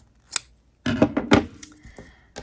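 Scissors snip through bulky-weight yarn after a row of crochet: a faint click, then a quick cluster of three or four close, crisp metallic cuts, and a last soft snap.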